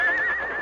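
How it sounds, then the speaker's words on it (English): A frightened horse, spooked by a reptile in a grove, lets out a loud, close, wavering whinny that holds high for well under a second, alone with no speech. "the horse plunged wildly and whinnied."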